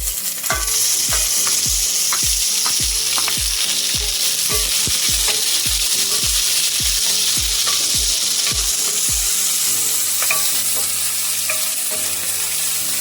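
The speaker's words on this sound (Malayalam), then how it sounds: "അപ്പോൾ നമ്മുടെ വെളുത്തുള്ളിയും കറിവേപ്പിലയും ഒന്ന് മൂത്ത് ഇനി നമുക്ക് ഇതിലേക്ക് സവാള ഇട്ട് കൊടുക്കാം." Sliced onion frying in hot oil with garlic and curry leaves for a Kerala fish curry, a steady loud sizzle broken by regular scraping stirs of a spoon against the pan, with no talking.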